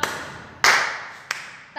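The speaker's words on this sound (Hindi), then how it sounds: "ताली बजाकर इसकी जो आवाज आती है उसको भी ताल कहते हैं।" Several hand claps, crisp and loud, spaced irregularly with a short pause between each, ringing briefly in a small room.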